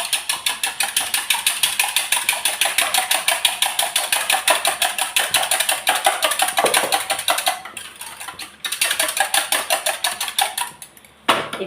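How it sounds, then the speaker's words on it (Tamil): Curd and water are beaten into buttermilk with fast, rhythmic churning strokes that run evenly and loudly for several seconds, pause briefly, then resume before stopping. "இதை நல்லா பீட் பண்ணிப்போம்."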